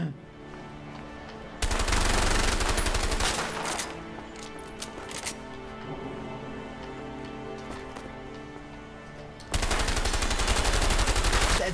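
Bursts of gunfire from the video game A Way Out, with a loud sustained volley at the start, scattered shots through the middle and another heavy burst near the end.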